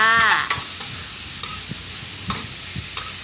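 Minced pork stir-fried in a pan for basil pork, a steady close hiss of frying broken by several sharp scraping clatters of the spatula, with no talking.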